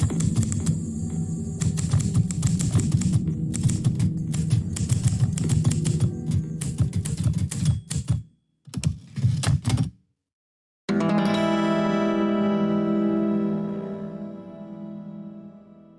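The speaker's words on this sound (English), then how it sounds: "I heard a sound that would become very familiar in just a week or so. The rush of typewriter keys." Typewriter keys clatter in a rapid, busy rush for about ten seconds, broken by a brief pause, before sustained music takes over.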